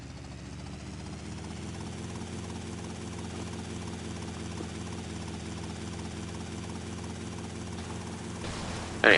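A helicopter in Grand Theft Auto: Vice City – The Definitive Edition drones with a steady rotor whir and engine hum, continuous and close, ending in a sudden louder burst.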